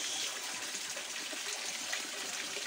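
Water from a koi pond pump pours in a steady, broadband gush and splash, continuous and fairly loud throughout with no voices.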